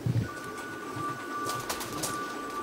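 Racing pigeons arriving at a loft during a club race, with soft, low cooing at the start and faint flutters and clicks of activity afterward, alongside a thin steady electronic tone.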